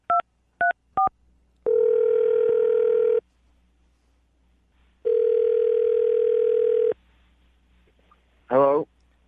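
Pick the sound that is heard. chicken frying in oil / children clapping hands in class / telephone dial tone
telephone dial tone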